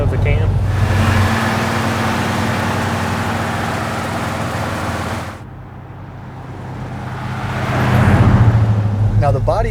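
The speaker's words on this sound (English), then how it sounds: "you can hear those lifters, too. And the loping of the cam" Stock Pontiac GTO V8 idling through its factory exhaust, a steady loping rumble from the cam with ticking lifters, close and continuous, swelling briefly near the end as the engine is blipped.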